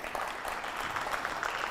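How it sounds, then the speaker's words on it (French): A high-school quiz competition audience claps for a scoring team, a brief even patter of applause at moderate level throughout. "Applaudissements pour eux."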